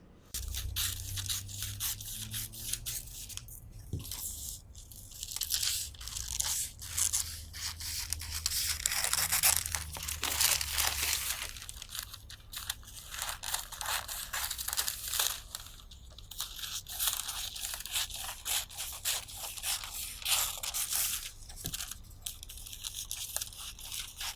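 Scissors cutting through jacket fabric for the front panel of a classic double-breasted jacket, heard as close, continuous crunching and tearing snips with brief pauses, no talking.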